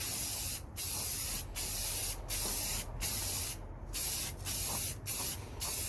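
An aerosol spray can hisses onto a car part in short repeated bursts of light coats, about eight sprays separated by brief gaps, loud and close.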